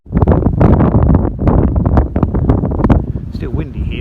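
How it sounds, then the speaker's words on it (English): Gusty wind outdoors beside the River Thames buffets the microphone with loud, continuous rumbling roars and sharp gust bursts that last the whole few seconds. "Still windy here though for all that"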